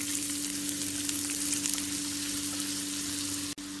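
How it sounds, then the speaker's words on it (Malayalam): Onion, garlic, ginger and sliced green chili sautéing in oil for a veg burger filling, a steady close sizzle over a low constant hum, with a brief dropout near the end and no talking. "ഇതിനി കുറച്ച് സമയം ഇളക്കി വഴറ്റാം"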